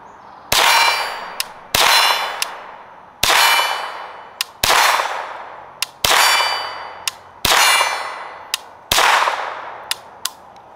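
AR7 rifle firing Mini Mag rounds, with seven sharp, loud shots at a steady pace, each trailed by a quick metallic clang and ringing decay.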